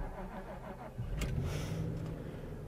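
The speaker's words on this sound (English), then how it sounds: "as you get into the car, into drive, off we go" A 25-year-old Jaguar S-Type is put into drive and pulls away, its low engine rumble steady at first and then swelling as the car moves off, heard from inside the cabin with no talking.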